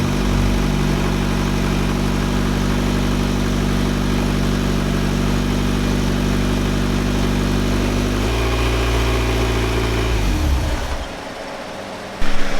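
A car engine running without its intake idles steadily up close with a low, constant rumble, shifts in pitch partway through, then drops off near the end.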